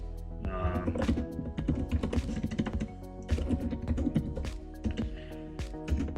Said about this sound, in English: You can see my typing skills on this different keyboard aren't so good.